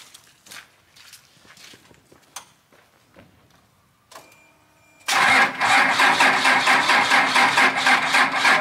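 Cummins diesel engine cranked with a jump pack: quiet scattered clicks and shuffling steps first, then an abrupt catch into a loud, rough, rhythmic idle that continues steadily to the end.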